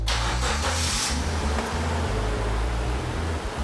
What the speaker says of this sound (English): All he had to do was get the car out of the studio, which was easier said than done